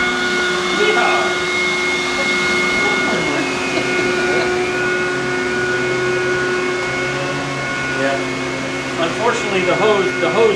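A Hyla EST water-filter vacuum cleaner runs on couch cushions, a loud, steady close-up drone that holds throughout, with some brief handling noises near the end.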